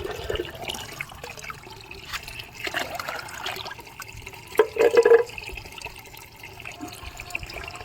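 Homemade liquid fertilizer water poured from a container onto potted plants, a soft continuous trickle with a brief louder splash near the end, no talking.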